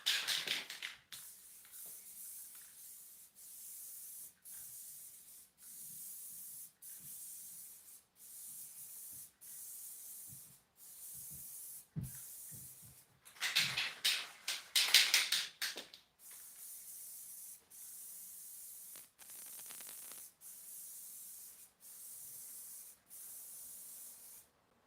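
An airbrush or spray gun lays a wet coat of paint in a garage workshop, hissing in repeated steady bursts of one to two seconds with brief pauses, close and fairly loud, plus a denser flurry midway.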